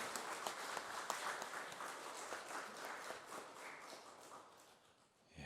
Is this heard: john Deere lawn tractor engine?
no